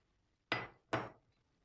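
Eggs are cracked into a bowl for a chocolate and sour cherry cake, heard as two sharp, close shell taps on the rim about half a second apart in an otherwise quiet kitchen.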